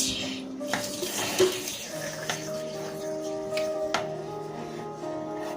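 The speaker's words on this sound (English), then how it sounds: "Now you gotta go back to stirring it." Homemade chili being stirred in a pot, with a spoon scraping and clinking against the metal in irregular strokes over a faint background hum.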